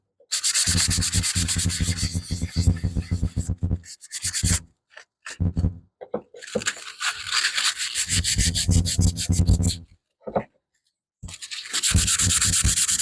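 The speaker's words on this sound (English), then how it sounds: "as soon as that evaporates and hardens, I can give this a quick sand, take off the excess." Sanding a wooden deck box during a shop build: steady, close rasping strokes in repeated bursts, broken by short pauses and a few brief scrapes, with no talking.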